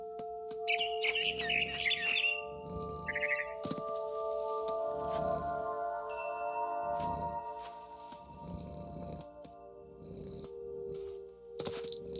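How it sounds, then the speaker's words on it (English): A barn swallow in the video game What Remains of Edith Finch gives a few bright chirps early on, over soft tonal game music and repeated muffled footsteps or thuds. "It was a barn swallow going back to her nest."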